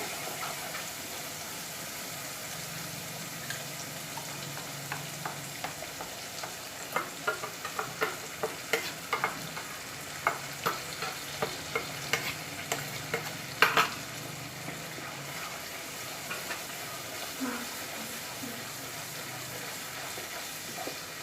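Tomato paste with spices fries in a pan for chole, a soft continuous sizzle broken by frequent scraping stir strokes, steady and close, with no talking.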